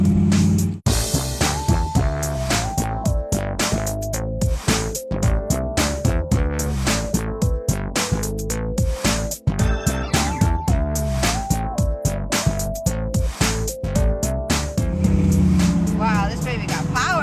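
A lowrider Chevrolet Impala engine rumbles steadily beneath loud music with a pulsing beat, the motor droning continuously throughout.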